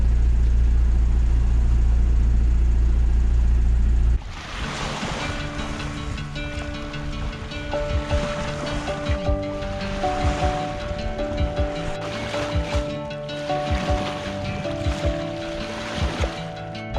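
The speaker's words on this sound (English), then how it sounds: "We've been on the engine for the last 2 hours because we did run out of wind." A sailing boat motors under engine at sea off Britain after the wind dropped, a loud rumbling wind and wave wash at first, then a steady engine drone with tonal hum and slapping water.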